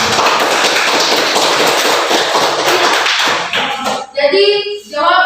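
An audience claps in a dense burst of applause for a professor at an academic presentation, the clapping tapering off before a voice begins to speak at the end.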